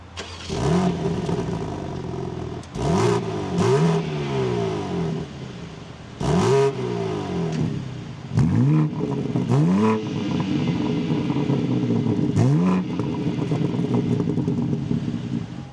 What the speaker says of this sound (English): let's fire up this M4 and take a listen to how it sounds.